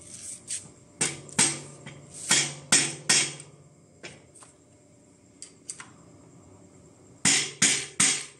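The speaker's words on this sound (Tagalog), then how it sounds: "Ito yung pinupukpok kasi yan, yung lock ring." A hammer taps the lock ring on a fixed gear bike in sharp metallic strikes, single blows and quick pairs with short pauses, ending in a close burst of three rapid hits.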